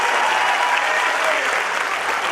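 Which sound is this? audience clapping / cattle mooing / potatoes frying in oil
audience clapping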